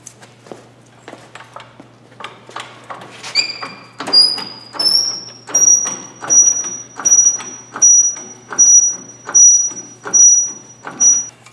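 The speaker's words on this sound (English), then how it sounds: "We got to jack up the car." A car jack is pumped in a steady rhythm, about a dozen close strokes, each with a thin metallic squeak.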